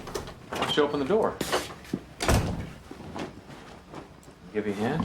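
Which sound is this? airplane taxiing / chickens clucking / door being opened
door being opened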